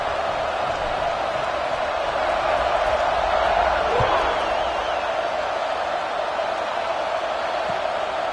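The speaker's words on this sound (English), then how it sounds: "this crowd is buzzing after that last score" Steady crowd murmur fills a video game football stadium after a score, a continuous broadband buzz at moderate level with no distinct cheers standing out, and commentary-like voice content mixed faintly underneath.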